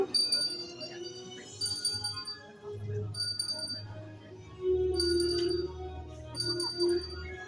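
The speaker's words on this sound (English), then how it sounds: "Every time you feel me tap you, you're going to ring the bell." A hand bell is rung in several separate bright, ringing strikes spread across the stretch, fairly quiet and close, with people talking between the rings.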